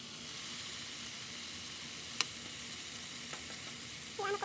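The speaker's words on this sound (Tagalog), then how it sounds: "maglagay na ako ng bawang kasi medyo lumabas na yung konting oil" Garlic sizzling in a little oil in a pan while dinuguan is being cooked, a steady, faint hiss throughout with a single small click partway through.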